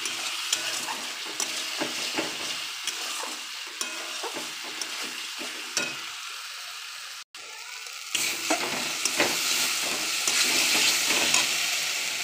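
Masala spices with tomato, turmeric and salt sizzle and spit in a pan while a spatula stirs them, loud and continuous close by, with one brief dropout in the middle.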